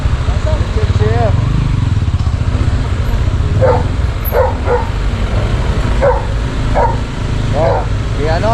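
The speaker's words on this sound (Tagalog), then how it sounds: "May aso oh." A dog barks in short, repeated bursts at a moderate distance on a rural outing, heard over a steady low engine or motorcycle rumble and wind, with people talking nearby.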